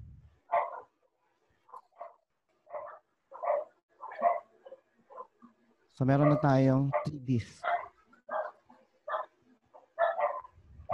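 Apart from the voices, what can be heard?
dog barking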